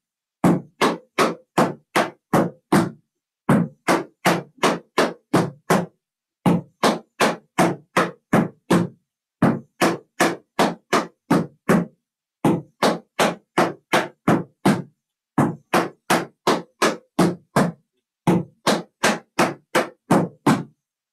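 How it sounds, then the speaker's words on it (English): Tap dance steps in a lesson: flaps, ball changes and a hop, heard as seven bursts of fast, crisp, close taps, each burst separated by a short pause and repeating evenly, with no voice. "After the stomp, pop, two flaps, ball change. Then here's your hop."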